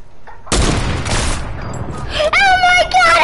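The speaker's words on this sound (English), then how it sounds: "that double sniper thing works if you just hit your shots with them" Rapid gunfire from sniper rifles in a shooter video game bursts out loud and dense after a brief quiet start, with in-game tones and effects layered over it near the end.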